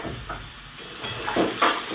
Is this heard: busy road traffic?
no